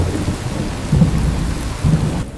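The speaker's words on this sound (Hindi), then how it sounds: "बारिश अब भी वैसी की वैसी तेज होती रहती है।" Heavy rain pours steadily with low rolling thunder rumbling underneath, swelling in two deeper surges before trailing off.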